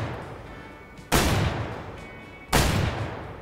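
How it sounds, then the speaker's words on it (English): Two loud hunting rifle shots ring out in the Way of the Hunter video game, each a sharp, close crack followed by a rolling decay over quiet ambient outdoor sound, spaced about a second and a half apart. "My shooting is on point. I just dropped three."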